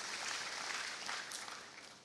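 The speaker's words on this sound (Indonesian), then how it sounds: "Yang setuju kita tepuk tangan yang paling meriah bagi Yesus Kristus Tuhan kita" Applause from a church congregation honoring Jesus Christ during a worship service, a steady, dense wash of clapping that holds for about two seconds and then begins to thin.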